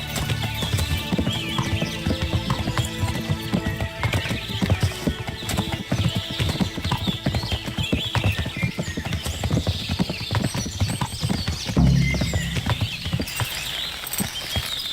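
In the video game Kingdom Come Deliverance, a ridden horse's hooves clip-clop in a brisk, steady rhythm, close and prominent over game ambience, with a brief whinny.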